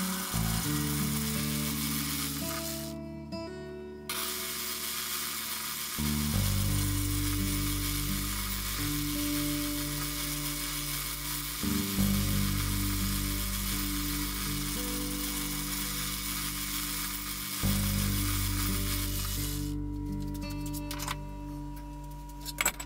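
A metal lathe facing off a blank, a steady motor hum with changing tones through the cut, periods of scraping and chatter, and brief pauses as the feed stops and restarts.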